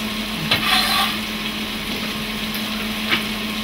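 Onions, celery and garlic frying in olive oil in a pan, giving a steady sizzle with a few brief stirring scrapes, close and fairly loud, with no voices.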